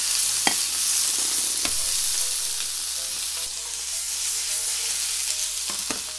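Garlic, green onion and onion fry in an oiled pan over medium heat, a steady close sizzle broken by a few sharp clicks of stirring against the pan, with no one speaking.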